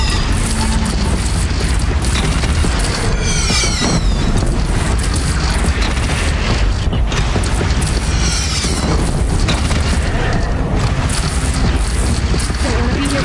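Cannon fire and heavy explosions in the video game Horizon Zero Dawn, a dense, loud, continuous roar of booms and crashes with no clear gaps.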